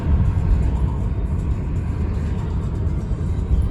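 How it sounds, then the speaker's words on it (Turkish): An automatic car pulls away as the gas is pressed, heard from inside as a steady, loud low rumble of engine and road noise. "gaza basıp ilerliyorum"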